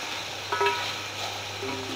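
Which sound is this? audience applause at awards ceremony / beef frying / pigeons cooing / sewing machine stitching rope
beef frying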